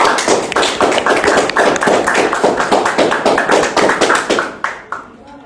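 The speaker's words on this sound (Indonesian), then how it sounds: "berikan tepuk tangan dulu untuk temennya berdua" Classroom applause for two students during a microteaching lesson, a loud, fairly steady run of separate claps from a small group that stops abruptly near the end.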